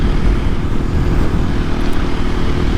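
A 2024 KTM EXC-F 500 Six Days dual sport motorcycle cruising in sixth gear, its engine droning steadily under loud, constant wind rush from a close on-board position.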